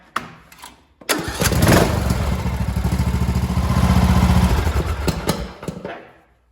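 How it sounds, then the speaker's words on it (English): A John Deere S110 lawn tractor engine cranks briefly, then catches and runs with a steady, loud, close mechanical chug, tapering off near the end. "as soon as I fire this up and run it, this should go down"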